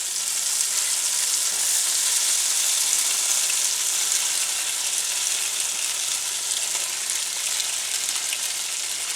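Beef sizzles in a pan of hot vegetable oil over medium heat, a steady dense crackle of frying that holds evenly throughout at close range, with no talk.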